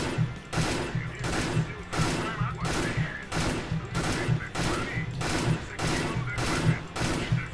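M4A4 rifle fire in CS:GO, repeated short bursts of sharp automatic gunshots in a steady rhythm, roughly nine or ten bursts with brief gaps between them, loud and close.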